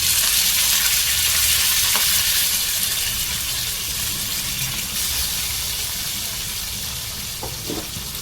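Dried red chillies and curry leaves fry in hot oil with cumin and fenugreek seeds as the tempering for a fish curry, giving a steady, bright sizzle that holds close and loud throughout with a faint clink or two.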